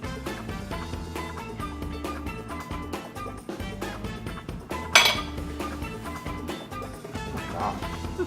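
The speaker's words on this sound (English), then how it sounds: "we're gonna cut up some slices of French toast" Knife and fork clink and scrape against a plate while slicing French toast, with irregular light metallic taps throughout and one sharper clink midway, close by in a quiet kitchen.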